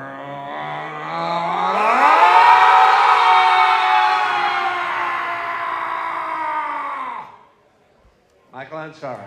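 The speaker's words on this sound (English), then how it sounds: "we do the death cry to set a spirit free" A convention crowd at a Klingon panel lets out a long Klingon death cry in unison, a rising, wavering howl of many voices held loud for about five seconds before cutting off, then brief talk and noise.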